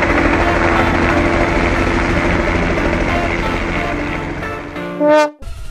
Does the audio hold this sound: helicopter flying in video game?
yes